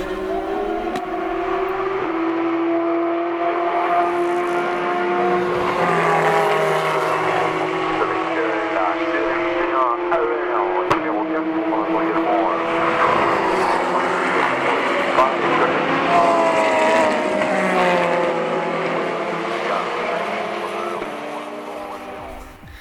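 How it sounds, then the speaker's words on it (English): Racing cars at Le Mans 24 Hours roaring past, loud engine notes rising and falling as several cars sweep by in succession, with a voice speaking over the continuous engine noise. "You'll be able to recognize the cars by sight and sound."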